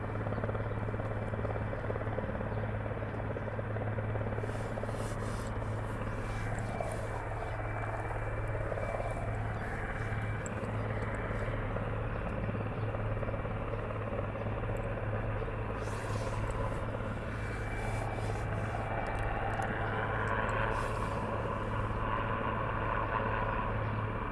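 A Royal Air Force Puma helicopter flies nearby, its rotor and engine making a steady, loud drone with a constant low hum throughout; voices are faint underneath.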